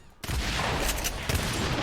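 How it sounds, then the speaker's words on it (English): Explosions in the video game Agents of Mayhem: after a brief quiet moment, a loud, dense burst of blasts and rattling fire rolls on continuously, with a second surge partway through. "Stop exploding. It's distracting."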